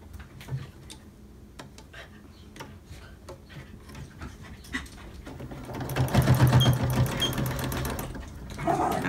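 A sewing machine back-stitches a cloth mask in short bursts of fast ticking stitches that swell to a louder run near the end, with light handling sounds in between.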